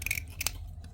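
A knife scrapes a surface flat during a rollback tow truck cab swap, giving a few short, quiet rasping strokes close by.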